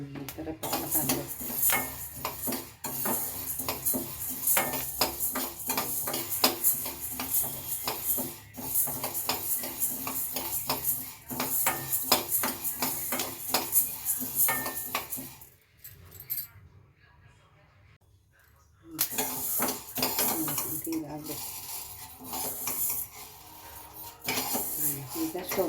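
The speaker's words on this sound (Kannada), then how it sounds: "ಪಟ ಪಟ ಅಂತ ಸೌಂಡ್ ಬರಬೇಕು" Horse gram seeds crackle steadily while dry roasting in a pan, a busy stream of close, sharp pops and metallic scraping. It pauses briefly, then resumes just as loud, with a voice speaking over part of it.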